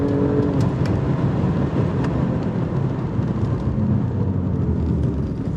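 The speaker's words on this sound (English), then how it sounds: "Love that exhaust note." A 2024 Alfa Romeo Stelvio Quadrifoglio roars steadily as it accelerates on a track in manual mode, a loud, continuous exhaust rumble close by, with no talking.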